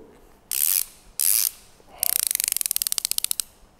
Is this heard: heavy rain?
no